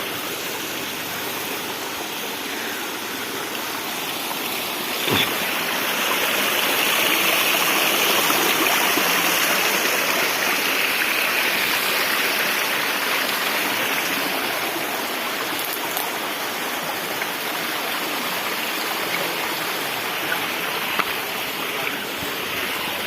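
Steady broadband rush of a waterfall in Uttarakhand, continuous and fairly loud throughout, with a slight swell in the middle as if moving closer along the descent path.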